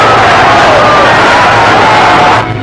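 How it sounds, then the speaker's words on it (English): A crowd cheers along a town or hamlet route during Fidel Castro's triumphal march after the Cuban Revolution victory, a steady, dense roar of voices filling the whole span before easing slightly at the very end. "In every town and hamlet, a cheering welcome greeted the rebel leader."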